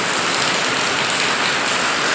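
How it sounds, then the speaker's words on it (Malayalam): Steady rain pours down outdoors at a school, a dense, continuous hiss that fills the whole moment with no pauses and no voices. "മഴയാണ്."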